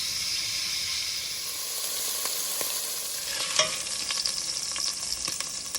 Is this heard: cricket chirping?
no